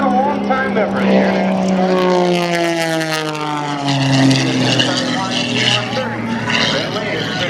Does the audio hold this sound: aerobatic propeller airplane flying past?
yes